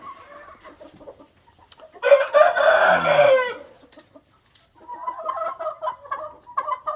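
Chickens inside a 12 by 12 winter coop cluck and call nearby, with a loud drawn-out crow in the middle and busy clucking before and after.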